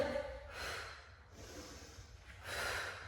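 Strong breaths pushed out during a cardio abdominal exercise, two long airy exhales close to the microphone with a softer intake between them, and no one speaks.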